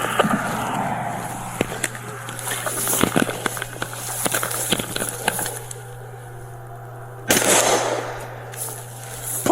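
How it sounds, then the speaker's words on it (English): Gunfire from suspects holed up inside an immobile vehicle after a collision during a police shooting incident, heard as a series of sharp irregular bangs over a steady hum, with a louder burst near the end. "They're inside actively shooting."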